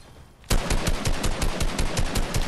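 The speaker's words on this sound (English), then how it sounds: "I'm gonna keep shooting" Rapid automatic gunfire from a shooter video game bursts in after a short quiet moment and continues as a loud, fast, evenly spaced string of shots.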